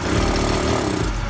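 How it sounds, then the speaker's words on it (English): A scooter engine revs under throttle with a steady, loud mechanical drone and low rumble that holds without clear rise, suggesting it bogging down rather than accelerating. "It starts right up, runs fine, but when I throttle it up,"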